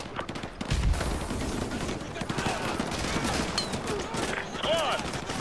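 Suppressing gunfire rattles through a street battle in Call of Duty: Modern Warfare 2, bursts of automatic and rifle shots crackling continuously, with voices shouting over the fire.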